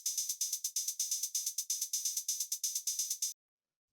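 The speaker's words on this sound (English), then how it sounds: "So the next thing that we have here is this little drum rack with some hi-hats," Drum rack hi-hats play a brisk, steady old-school Detroit techno pattern in a deep techno production, with two hats interlocking in crisp, bright ticks. The pattern runs alone at moderate level and then stops abruptly.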